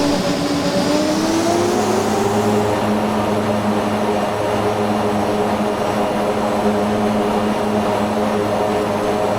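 Twin turboprop engines of an MU-2B-60 in a flight simulator, a loud steady drone with a rising whine at first that settles into a constant tone, with no talk over it.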